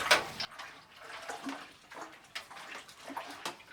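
A fabric scouring bath of water, industrial detergent and soda ash being stirred, giving soft, close sloshing and swishing with a few light knocks against the container, no talking.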